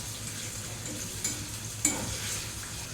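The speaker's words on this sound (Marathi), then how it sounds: "छान तेलामध्ये खरपूस असं त्याला फ्राय करून घेऊया" Finely chopped tomato fries in hot oil with a steady soft sizzle, broken by a couple of sharp stirring scrapes of a spoon, close and without talk.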